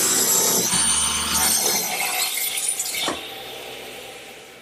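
A saw cuts strips from a 2x4 of wood, a loud continuous rasping whine that drops away abruptly near the end, leaving a quieter room.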